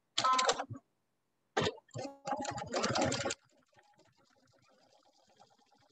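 A sewing machine stitching a quilt seam, running in short close bursts of rapid stitching with pauses between, then going quiet.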